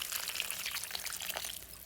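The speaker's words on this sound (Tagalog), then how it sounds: "Lalagyan ko na rin yan ng tubig," Water is poured into a pan of fried chicken feet being cooked as adobo, making a faint, steady splashing hiss for about two seconds.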